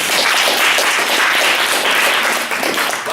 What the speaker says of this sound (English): Can we clap for Martha, by the way?